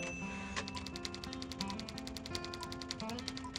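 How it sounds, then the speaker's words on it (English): Rapid mechanical typewriter keystrokes clatter in a steady, fast rhythm in the point-and-click adventure game Thimbleweed Park, with a low game music bed underneath and no talking. "I'm a fast typer."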